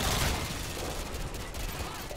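Dense, continuous rattle of gunfire during a firefight in the video game Modern Warfare 2, loud and close, with bursts running together into a steady roar and no clear talking.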